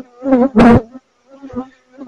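Honeybees buzz loudly and close around a hive frame bearing queen cells during a colony split, in two strong droning bursts followed by quieter, intermittent buzzing.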